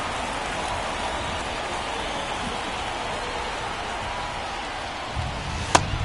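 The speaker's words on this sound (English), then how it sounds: "This rain is not letting up." Steady rain falls on a ballpark in the baseball video game MLB The Show 24, a dense, even hiss throughout with a single sharp knock near the end; no talking.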